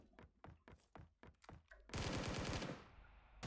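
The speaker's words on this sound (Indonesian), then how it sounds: "Waduh, dia masih nembak dong." PUBG mobile game gunfire: a string of separate shots cracks out at an uneven pace, then a dense automatic burst lasts about a second before tailing off, all quiet overall.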